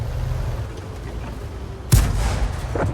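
A single loud cannon shot from an M10 Wolverine tank destroyer in War Thunder booms sharply after a stretch of low engine rumble, followed by a fading tail.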